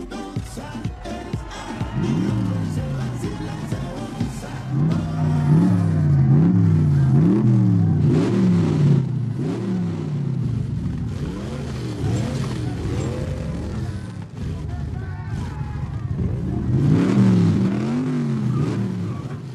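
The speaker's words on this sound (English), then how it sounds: "You know that's way too much boost for that engine." Car engine with a makeshift turbo boost revving hard, repeated rising and falling wails, loud and close with surging bursts, tapering off midway before another strong rev near the end.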